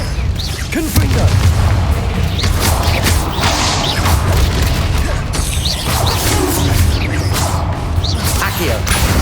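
Confringo fire spell explosions in the Hogwarts Legacy video game, loud and continuous, with booming blasts, whooshes and crashing impacts layered densely over constant combat noise.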